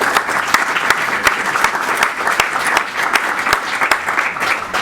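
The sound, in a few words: audience applause at a panel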